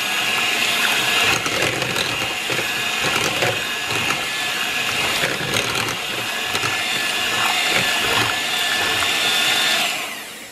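Crepe batter being mixed with melted butter by a whirring electric mixer, a continuous close motorized hum with liquid churning that runs steadily and cuts off at the end.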